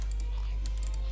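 Quick bursts of clicking on a computer keyboard or mouse, a few sharp close taps in rapid succession over a low steady hum.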